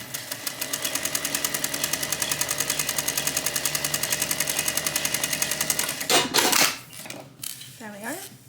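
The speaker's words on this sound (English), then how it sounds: "We're gonna sew a 3/8 inch seam allowance along the top." A sewing machine stitches a 3/8-inch seam along the top of a tote bag with a fast, even rhythmic chatter for several seconds, then stops, followed by fabric handling and brief voice sounds.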